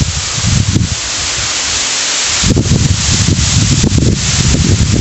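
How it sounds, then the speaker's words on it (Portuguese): Strong wind blows across an open farm field of corn in Brazil, roaring in rough gusts against the microphone with a brief lull midway before building again. "É vento. Urbanidade. E ventão."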